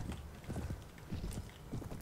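Horses in the medieval video game Anno Domini 1257 clop along with quick, overlapping hoofbeats, close and fairly loud, forming a short burst of galloping clip-clop without talk.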